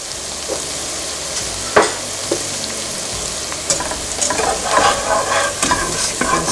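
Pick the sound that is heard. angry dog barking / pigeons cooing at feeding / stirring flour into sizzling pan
stirring flour into sizzling pan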